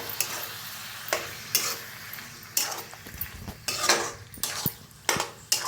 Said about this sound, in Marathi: त्याच्यातच टाकूया जो मसाला आपण बनवून घेतला होता पेस्ट. तर छान मिक्स करून भाजून घेऊया.